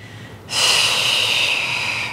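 A single forceful exhale during a relaxation exercise, a sudden breathy whoosh starting after a short quiet moment and held steadily for well over a second, close and alone.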